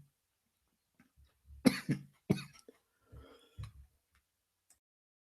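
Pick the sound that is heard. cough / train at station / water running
cough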